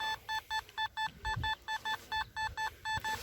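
A Nokta Simplex metal detector hunting in a park repeats a quick series of short electronic beeps, about a dozen evenly spaced tones, over faint outdoor background noise.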